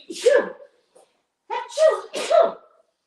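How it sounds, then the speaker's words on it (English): Someone sneezes loudly and close up, first a single burst, then a pause and a quick double sneeze. "I'm going to sneeze"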